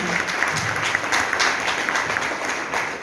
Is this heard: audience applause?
yes